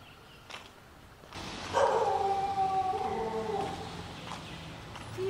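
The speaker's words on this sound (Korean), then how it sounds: "이유가 짖네." A dog barks and howls outdoors in Santitham, Chiang Mai, loud and sustained for several seconds after a quieter start, with a siren-like wavering tone.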